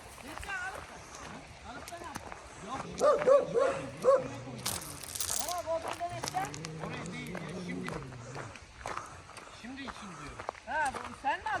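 A dog barks intermittently outdoors on a walk while people talk and footsteps move along, the barks mixing with the voices at moderate distance.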